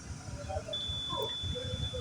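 A steady high electronic multimeter continuity beep, probes across a phone circuit inductor, starts partway through and holds continuously to the end, with low background noise and some faint voice underneath.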